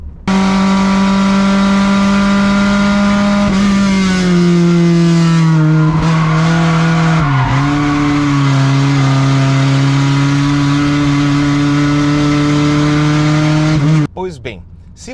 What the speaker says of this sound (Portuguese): escutem, vocês conseguem escutar o brrr do carro